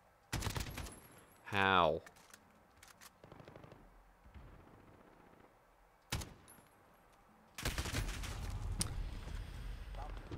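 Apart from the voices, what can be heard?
gunfire in Call of Duty Modern Warfare multiplayer (video game)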